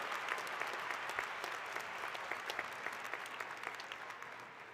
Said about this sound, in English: Let's give our medalists another round of applause.